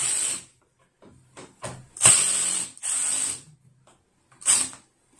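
A power driver tightens screws while a FURINNO espresso coffee table is assembled, in several short whirring bursts with pauses between them.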